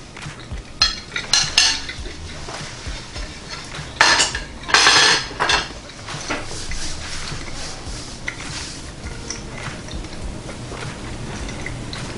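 Cutlery clinks and scrapes on a plate while a knife cuts into grilled sausage, a few sharp close clatters early on, then quieter scraping.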